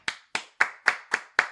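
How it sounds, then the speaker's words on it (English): Six crisp, evenly spaced hand claps from a single person, close and loud with short decays and silence between, during a podcast interview. "Give him a round of applause."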